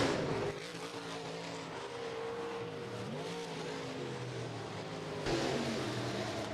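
Stock car engines roar at Rapid Speedway as a heat race winner comes off turn four, a loud sustained snarl with pitch dipping and rising through the corner, then a fresh surge as more cars pass close by.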